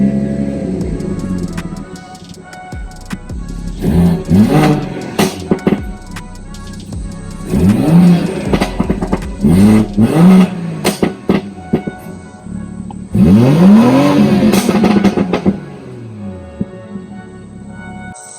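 A BMW B58 engine, freshly flashed with an MHD stage 2 tune, runs close by with a deep rumble and rises in several swelling revs, the third one longest and loudest.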